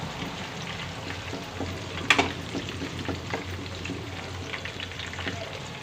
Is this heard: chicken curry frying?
yes